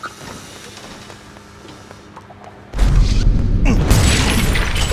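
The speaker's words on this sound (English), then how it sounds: "I'm always too close to the explosions" A sudden, loud explosion bursts in LEGO Star Wars: The Skywalker Saga. Quiet mechanical game sounds come first, then a heavy boom gives way to a sustained rumbling, crackling blast close by.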